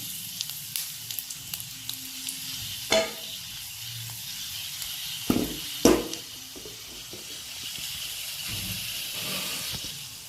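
Cardamom fries in a pan beside raisins with a soft, low sizzle. Scattered stirring taps and a few louder clatters sit over the sizzle, which swells toward the end.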